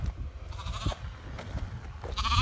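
A Bluefaced Leicester lamb on a farm gives a few short bleats near a pig pen over soft outdoor background noise and footsteps, with no talking.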